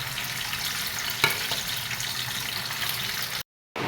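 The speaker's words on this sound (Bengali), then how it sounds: "এই দেখো মোমোটাকে আমিও ফ্রাই করছি।" Momos fry in a pan with a steady, close sizzle that holds evenly for a few seconds, then briefly cuts out near the end.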